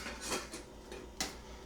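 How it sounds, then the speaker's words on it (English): A small Walmart Ozark Trail camping cooking pot being handled, giving a few light metallic clinks and knocks up close, one sharper clank near the end, with no voices. "a little Walmart brand Ozark Trail little cooking pot"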